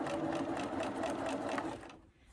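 A sewing machine back stitching a fabric mask, running in a steady rapid whir of stitches for about two seconds before stopping abruptly, close and loud with no talk.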